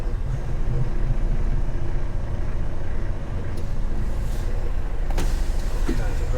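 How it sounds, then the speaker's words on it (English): An HGV truck cab window winds down with a low motor whir over the steady rumble of the idling cab, ending in a couple of faint clicks and knocks. "Wind the window down, see where the wheels are."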